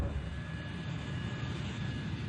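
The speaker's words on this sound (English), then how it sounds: "Flight 587 begins to taxi to runway 31L." American Airlines Flight 587 airliner taxiing toward the runway on a fine day, a steady low engine rumble with a faint high whine running continuously at moderate distance.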